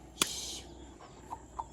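A single short squawk from a rooster, followed by a couple of soft clucks at a distance in a quiet setting.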